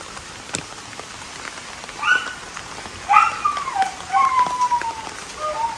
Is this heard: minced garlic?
no